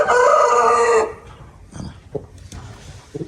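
A Dakan breed rooster crows once, loud and near, a long harmonic call lasting about a second, followed by quieter scattered clucks and small sounds.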